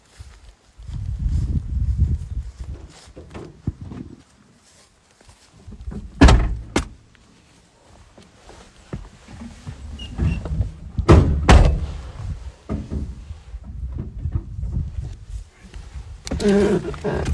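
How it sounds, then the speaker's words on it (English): A pickup truck door shuts with two firm slams amid shuffling and outdoor movement as someone climbs in at a beekeeping mating yard, with a voice talking at times. "Let's get in the truck and go."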